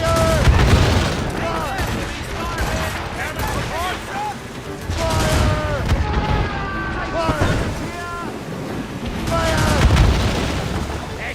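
Ship cannons firing in the game Assassin's Creed Rogue, heavy booming blasts repeating over a dense battle din, with voices shouting through it.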